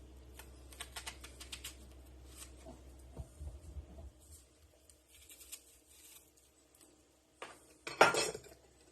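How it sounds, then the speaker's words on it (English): Two onions being chopped with a knife on a cutting board at home, a quick run of light tapping knife strikes followed by a louder clatter near the end. "I'm going to chop up 2 onions because I like lots of onions."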